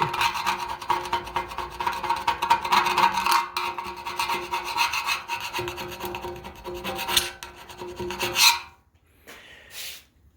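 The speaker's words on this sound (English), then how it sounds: "wire brush on all these seams that are easily coming off" A wire brush scrubbing the seams on a Camaro frame during stripping, a loud harsh continuous scratching rasp up close that stops abruptly near the end, leaving near silence with a short faint rustle.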